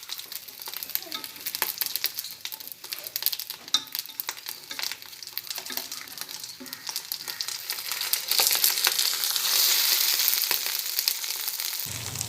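Fish wrapped in banana leaf, Kerala-style meen pollichathu, fries in coconut oil with a continuous crackling sizzle that grows louder and denser in the second half.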